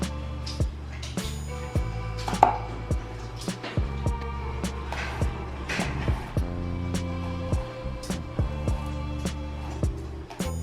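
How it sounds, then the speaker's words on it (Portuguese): Garlic cloves are chopped into smaller pieces with a knife, a string of crisp, evenly spaced thuds on a board, moderately close, over a steady tonal background. "Separe também 6 dentes de alho e corte em pedaços menores."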